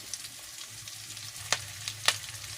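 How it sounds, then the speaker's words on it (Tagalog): Onions sautéing in a pan for ginisang monggo, a Filipino mung bean stew, giving a steady close sizzle with a few sharper crackles and pops partway through. "Ayan lang muna natin, makutsa yung sibuyas."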